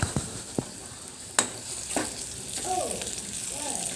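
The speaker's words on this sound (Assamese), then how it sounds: "হালধি দিয়াৰ পিছত মই ভালদৰে লৰাই ল'ম।" A spoon stirs turmeric into frying taro curry with ginger and garlic, giving a few sharp pan knocks and scrapes over a low sizzle, and a quiet voice briefly in the background.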